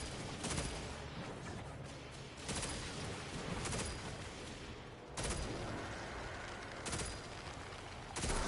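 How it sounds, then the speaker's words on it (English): Gunfire aimed at the player in a video game, dense overlapping bursts of shots and booms filling the whole stretch with a few louder volleys breaking through. "Uh-oh, someone's shooting at me."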